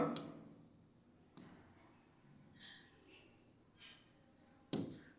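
Marker or chalk strokes scratch across a board as an equation is written, faint and close, with a few brief scraping strokes between quiet gaps and sharp taps at the start and end.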